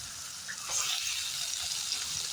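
Tomatoes tip into a frying pan of sizzling turkey berries and onions, a steady close frying hiss rising slightly as they land, with no talk.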